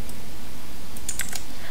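A few computer keyboard keys are pressed in quick succession, sharp light clicks near the end over a steady background hiss.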